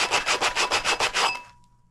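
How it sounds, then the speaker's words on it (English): Sandpaper rubs quickly back and forth over cured UV resin on a clear wine glass, about ten close, even strokes in a steady rhythm before stopping abruptly, leaving near silence. "I'm going to give these a good sand"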